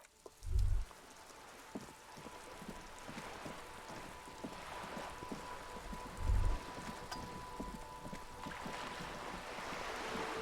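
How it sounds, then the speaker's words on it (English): Steady rain falls in the video game Disco Elysium, a soft, continuous hiss of drops on surfaces with a low hum beneath and two brief low thumps. "All around you, rain keeps falling."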